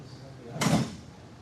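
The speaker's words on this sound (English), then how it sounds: "we'll get the drawer out" A drawer slides out of a lacquered chest in one short, brisk scraping rush, close and moderately loud, set against quiet room tone.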